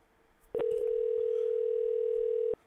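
A steady telephone dial tone comes from an auto-dialing machine placed on a call. It starts after a brief click, holds loud and constant for about two seconds, then cuts off abruptly.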